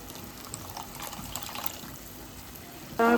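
Water poured into a pan of leftover masala while cooking chana batani curry, a soft, steady trickle and splash close by, ending in a brief louder gush.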